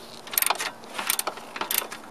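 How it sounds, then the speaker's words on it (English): A screw is tightened down on the air intake of a BMW 328xi, making quick, close clusters of ratcheting clicks in several short bursts. "by screwing that screw tight."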